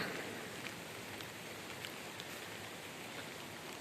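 Steady rain hisses evenly all around, a dense continuous wash with faint scattered drop taps, no voices.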